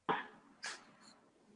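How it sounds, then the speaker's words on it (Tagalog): A dog nearby gives two short, sharp barks or huffs about half a second apart, the first louder and the second followed by a faint trailing yip, in an otherwise quiet room. "Sorry, ang ingay ng aso ko ata."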